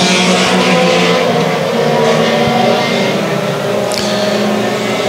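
Sport compact and thunder stock race cars roar around the Evans Mills Raceway Park track during a feature race, a loud continuous engine drone with rising and falling revs as the cars pass close by.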